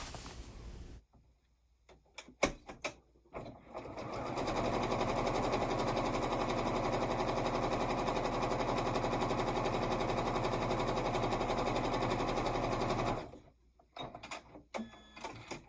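A sewing machine quilts a fabric square in a steady, fast, even whir of stitching for about nine seconds, bracketed by brief clicks and handling noises before and after.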